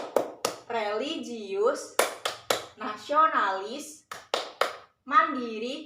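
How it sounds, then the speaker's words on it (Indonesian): A teacher demonstrates the rhythmic PPK clap chant in a primary classroom: sharp, close hand claps punctuate her chanted words in a quick, regular pattern. "Ibu contohin tepuk PPK itu seperti apa"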